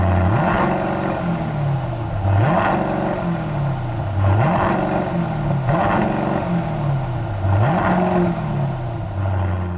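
Aston Martin DBX 707 SUV, a tuned 700-hp version of the DBX, revving hard: its engine and opened-up exhaust rise and fall in about five repeated bursts, loud and close, with no talk.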